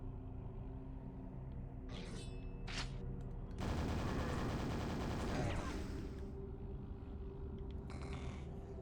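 Shotgun blasts and gunfire in the first-person shooter Quake 1, with a couple of sharp shots followed by a dense, loud roaring burst of combat noise lasting a few seconds, then quieter game ambience.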